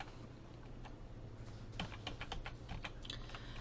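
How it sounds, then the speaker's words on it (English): Quick bursts of keystrokes on a computer keyboard, sparse at first then a rapid cluster, close and fairly quiet. "So I'm going to start by typing in her name."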